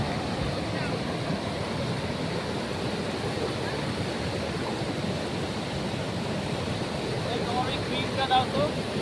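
A waterfall near Dhanbad, a dense steady rush of falling water that fills the whole clip evenly with broadband noise, loud and close throughout.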